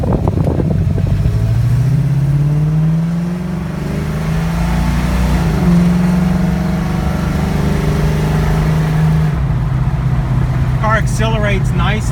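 A 1974 AMC AMX Javelin pulls away from inside the cabin, its engine note rising through the gears under loud, constant road and wind noise, with a voice speaking near the end.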